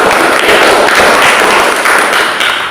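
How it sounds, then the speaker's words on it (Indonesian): Classroom students clapping for a classmate during a lesson, a steady, dense patter of many hands held at an even level throughout, with no one speaking. "Tepuk tangan untuk Triazana"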